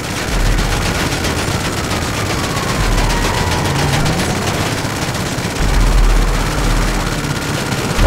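Explosive sniper rounds and heavy gunfire in the GTA 5 video game, a dense, loud barrage of shots and booming impacts over a rumbling engine or aircraft drone, with several deep thuds standing out.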